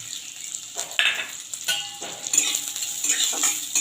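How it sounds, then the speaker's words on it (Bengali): Chopped onions sizzle with garlic in a pan while a spatula scrapes and taps against the metal in short, uneven strokes. "পেঁয়াজটাকে একটু ভেজে নেবো"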